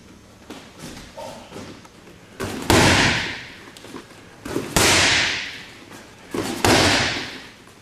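Kickboxing shin kicks striking a body, three heavy slapping thuds spaced a couple of seconds apart, each loud, close and followed by a brief decaying rustle, with softer shuffling and impacts between them.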